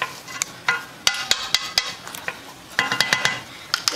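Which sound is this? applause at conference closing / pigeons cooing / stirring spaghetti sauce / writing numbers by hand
stirring spaghetti sauce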